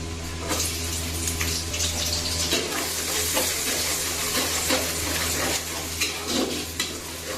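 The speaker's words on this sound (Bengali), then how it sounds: "পাতিলটা যখন গরম হয়ে গেল, এখন তেল দিয়ে দিচ্ছি পরিমাণ মতো। লাউ দিয়ে শোল মাছ হবে। 2টা পেঁয়াজ কুচি দিয়ে দিচ্ছি।" Chopped onions fry in hot oil in a heated pot for a snakehead fish and bottle gourd curry, a dense continuous sizzle and crackle close up with occasional stirring, no voices.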